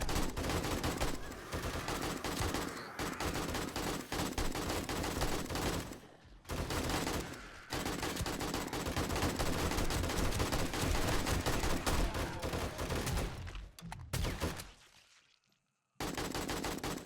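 Rapid, sustained automatic gunfire mowing down zombies during a night assault in the video game 7 Days to Die, loud and relentless with short pauses for reloads and a brief silence near the end.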